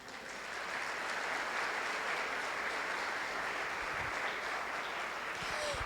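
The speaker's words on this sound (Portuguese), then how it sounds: "Você pode aplaudir a Deus por isso?" A church congregation applauds continuously during a worship service, a dense, steady wash of clapping that holds at an even level from start to finish.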